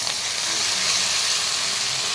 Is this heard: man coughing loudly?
no